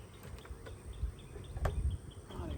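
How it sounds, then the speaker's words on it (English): Honeybees hum inside a hive box on a farm during a Demaree split, a soft continuous buzz with individual bees flitting close past in brief louder passes. "A lot of bees in there."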